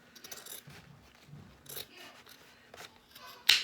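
Scissors snip through the seam of old denim jeans, with several quiet, close cutting and rustling sounds and a sharper click near the end.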